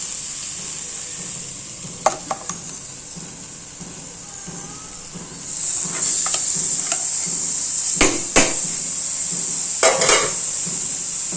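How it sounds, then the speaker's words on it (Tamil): Boti, goat tripe, frying in a pan for a one-pot gravy, a constant bright sizzle with scattered metallic clinks and scrapes of a spoon stirring, growing denser midway. "இதுலேயே இந்த போட்டி தொஞ்சல்லாம் நம்ம ஆட் பண்ணிடலாம்."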